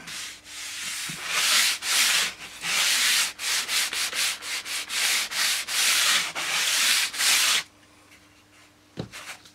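Glued wood is sanded by hand in loud, close, rhythmic rasping strokes, each rough pass separated by short pauses. The strokes stop near the end, followed by a soft knock and some handling.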